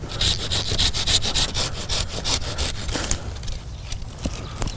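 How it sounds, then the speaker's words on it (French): A Japanese-tooth pruning saw cuts through hard wood on a butterfly bush in quick rhythmic back-and-forth strokes, close and rasping, slowing and fading toward the end. "Je vais donc utiliser une scie de jardinier, une scie à denture japonaise."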